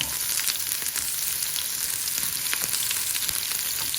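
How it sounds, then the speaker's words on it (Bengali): Onion fries in a little oil for a chickpea dish, giving a loud, steady sizzle with faint crackles and occasional stirring taps, and no voices. "একটু তেল দিলাম, একটু পেঁয়াজ আমি দিলাম।"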